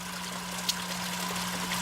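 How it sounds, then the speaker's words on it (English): A pump sends a thin stream of water trickling into an aquaponics hot tub with a steady, soft wash. A constant low electrical hum runs underneath, and one faint tap sounds partway through. "there's really not that much water going in there"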